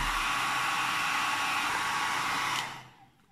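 A hair dryer blows over a scrapbooking page coated with vaseline, a loud steady whoosh that cuts off near the end and fades quickly, with no talk.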